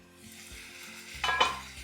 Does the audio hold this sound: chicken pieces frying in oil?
yes